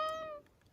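A cat gives a single short, clear meow up close, tapering off after a fraction of a second.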